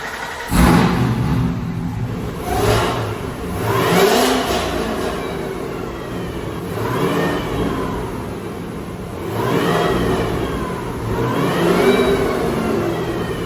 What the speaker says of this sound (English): do the same little bits of revs, and hopefully it's way louder than it was before